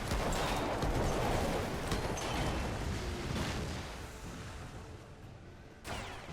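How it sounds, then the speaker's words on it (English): Artillery and infantry rifle fire rumble through a video game battle, a dense, distant crackle of shots and booms that gradually fades, with one sharp burst near the end. "Artillery support, and now infantry starting to pepper them as well."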